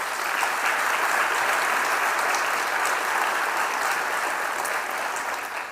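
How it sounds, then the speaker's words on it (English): A crowd at a county government budget presentation gives a sustained round of applause, a thick, steady roar of clapping that holds evenly for several seconds before tapering slightly at the end. "Can we please give them another round of applause?"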